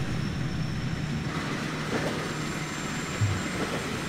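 Passenger train running toward Sidoarjo station in the Trainz simulation game, a steady continuous rumble of wheels and engine with a faint high whine, no talking.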